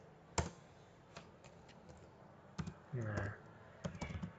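Quiet typing on a computer keyboard, a few scattered key clicks and then a short quick run of taps, with soft talk in between.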